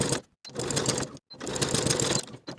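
A sewing machine runs in two quick bursts of rapid stitching while basting the open edges of a jacket pocket flap, with a brief pause between runs.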